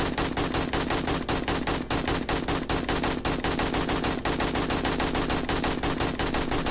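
Sustained automatic gunfire from an enemy in the zombie survival video game 7 Days to Die, a dense, loud rattle of rapid shots running without a break throughout.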